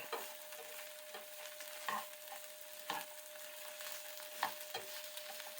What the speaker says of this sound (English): Can already tell the oil's starting to already glaze over the peppers and the onions good.